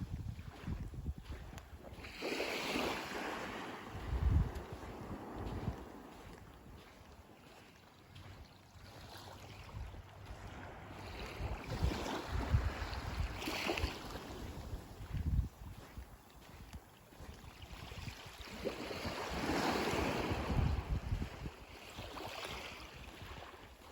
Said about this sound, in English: I'm down at the beach, and I'm going to have a quick walk down along and see what I can find just laying about on the shoreline.